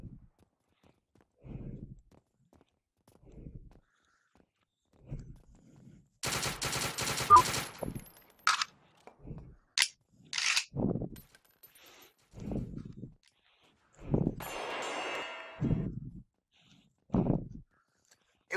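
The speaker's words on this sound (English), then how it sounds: "Only problem with blind firing is the 1911 only has a 7-round capacity." 1911 pistol blind-fired in the VR shooter BAMVR: sharp, close shots come in irregular bursts separated by quiet gaps, with a dense cluster in the middle.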